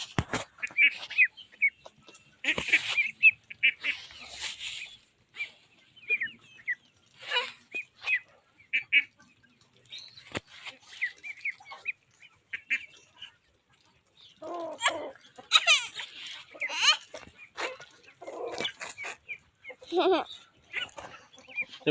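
Chickens and other farm animals on a family farm give scattered clucks and bird-like calls in short bursts, fairly close, with people's voices mixed in.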